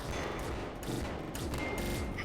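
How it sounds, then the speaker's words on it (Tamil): Dense gunfire in the mobile shooter game Zombie Fire 3D during a zombie boss fight, rapid overlapping shots and thuds blending with game music and effects into a constant loud wash. "இந்த கன்னை யூஸ் பண்ணி இவனை நம்ம அடிக்கலாம்."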